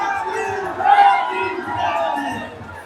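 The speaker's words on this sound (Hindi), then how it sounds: "जय भीम के नारों से जंतर मंतर पर की आवाजें पटी हुई हैं" A large protest crowd at Jantar Mantar chanting Jai Bhim slogans in unison, loud and close, with rising and falling waves of massed voices.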